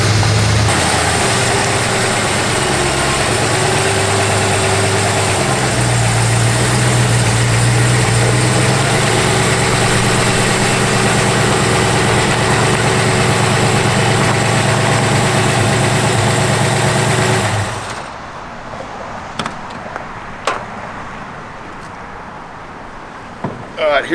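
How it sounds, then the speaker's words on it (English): A fully rebuilt, balanced K-code V8 in a 1966 Shelby Mustang GT350 idles loudly and steadily up close with a deep, even rumble, then cuts off abruptly, leaving quiet with a few faint clicks. "This is a fully rebuilt, correct K-code motor that was balanced when it was done."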